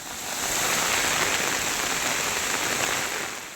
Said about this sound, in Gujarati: અચાનક જ અહીંયા વરસાદ તૂટી પડ્યો છે